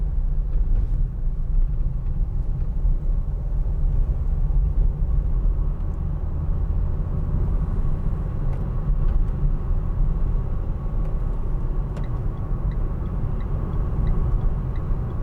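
A 2015 Vauxhall Vivaro 1.6 CDTi ecoFLEX diesel van on the move, with a steady low engine drone and road rumble heard from inside the cab, continuous and even.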